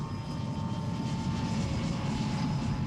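A U-2 spy plane's engine roars as a steady, broad rumble, close and constant with no pauses, carrying a faint thin whine above the low drone.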